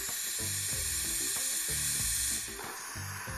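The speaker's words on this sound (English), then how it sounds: "When we've got a nice flow of steam," Steam wand on a Sage Duo Temp Pro espresso machine: a steady, loud, close hiss of flowing steam that softens slightly toward the end, with a low background rumble underneath.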